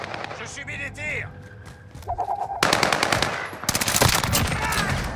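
Gunfire in the Modern Warfare battle royale video game on Rebirth Island, rapid bursts of automatic shots that grow dense and loud in the second half, mixed with game sound effects.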